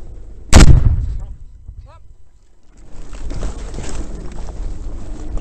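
A bomb explosion in a combat setting during the 2009 military operation in Afghanistan: one sudden, loud, close blast with a long rumbling tail, followed by wind noise and a brief shout.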